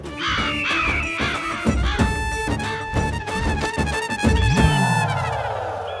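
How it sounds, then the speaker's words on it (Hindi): Several crows caw loudly and repeatedly, close by, harsh calls overlapping in a noisy chorus. "कौवे आ गए"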